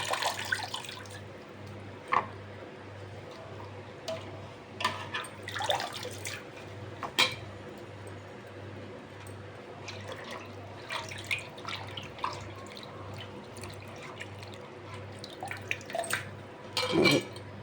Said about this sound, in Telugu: ఇది 2-3 సార్లు గోంగూర కడిగి పెట్టుకోవాలండి